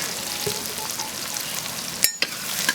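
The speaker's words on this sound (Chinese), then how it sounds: "豆瓣酱也要炒香。" Pickled chilies and chili bean paste stir-fry in a wok, giving a steady sizzle throughout. A couple of sharp metallic spatula clanks come near the end, and no one speaks.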